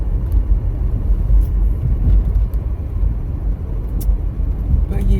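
Loud, steady low rumble of road and engine noise inside a moving car, a constant droning wash with a few faint high clicks and no clear speech.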